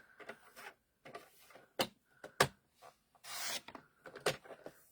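Rough edge of craft paper being trimmed, heard as a run of short, close scraping and slicing strokes in irregular bursts, with one longer rasping cut near the end; no talking.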